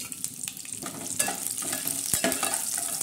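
Curry leaves roast in hot oil in a pan for upma, a close crackling sizzle with spatula stirring and scraping throughout, plus a few sharper pops.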